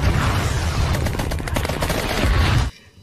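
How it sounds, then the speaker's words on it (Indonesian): Artillery and gunfire in a war film battle against North Vietnamese troops, a dense, loud barrage of booms and rapid shots rolling continuously for nearly three seconds before cutting off abruptly. "Artileri pun segera ditembakkan dan mengenai sebagian kecil pasukan Vietnam Utara itu."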